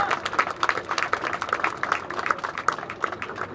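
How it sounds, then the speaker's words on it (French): Steady crowd applause at a Paris march commemorating victims of colonial slavery, with dense, overlapping claps that hold at an even level throughout. "Oui, ils ont fait applaudir."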